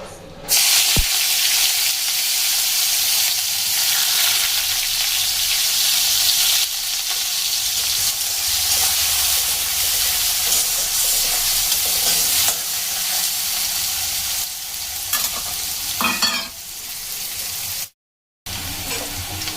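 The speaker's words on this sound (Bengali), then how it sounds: "পেঁয়াজগুলো দেখুন খুব সুন্দর ভাজা হয়ে গেছে, এর থেকে বেশি লাল করে আর ভাজা যাবে না।" Onions frying in a pan, a loud, continuous close sizzle and hiss with stirring scrapes, cutting out briefly near the end.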